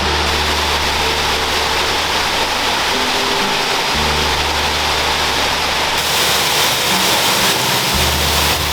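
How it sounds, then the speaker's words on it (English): A loud, steady roar of a 93-foot waterfall at Silver Falls State Park, Oregon, continuous and close, with a broad hiss filling the whole clip and a low rumble underneath. "It is waterfall number 9, and it flows 93 feet down."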